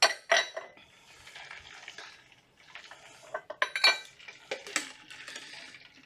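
Glass and metal clinking as the seal of a Boston cocktail shaker is broken while drinks are mixed: a sharp knock at the start, then scraping, rattling and ice-like clinks, with a few louder taps near the end.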